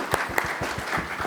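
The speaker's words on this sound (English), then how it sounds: "let's give a round of applause" Brief applause from a conference audience at a payments event, with a few distinct claps standing out over a soft wash of clapping.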